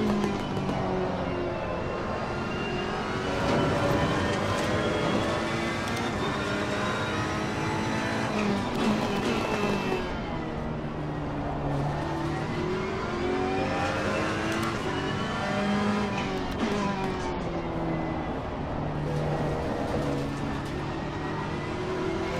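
A race car engine in the Assetto Corsa Competizione racing game, on a loose, aggressively set-up car, revs up and down through gear changes. It plays at moderate volume throughout with no talking.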